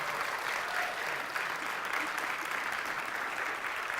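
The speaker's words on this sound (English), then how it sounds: "Let's give him a round of applause." Steady applause from a church congregation at a rooftop baby dedication fills the whole stretch, a dense wash of clapping at even volume without a break.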